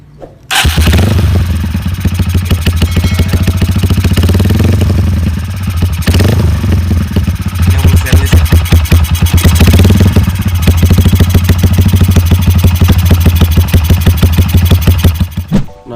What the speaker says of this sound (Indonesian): ini kita mau dengerin suara knalpot Scorpio by JRM nih yang full stainless.